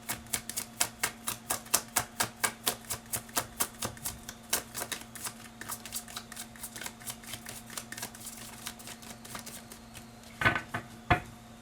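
Tarot cards are shuffled in a rapid run of crisp riffling clicks, close and fairly quiet, followed by a couple of sharper snaps as a card is drawn.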